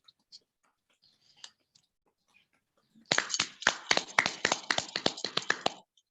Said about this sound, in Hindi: किरण विश्वकर्मा जी के लिए एक तालियां जोरदार होनी चाहिए।